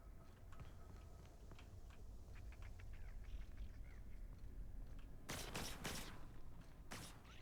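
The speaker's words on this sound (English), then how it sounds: "Did I hear gunshots?" A brief burst of gunfire in the sci-fi shooter The Outer Worlds, a few quick cracks late in the moment over a low ambient game drone, fairly distant and quiet.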